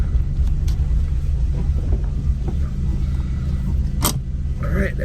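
Volkswagen car with upgraded rear trailing arm bushings and suspension on a short test drive around the block, giving a steady low road and engine rumble throughout with light wind noise and a brief louder thump near the end.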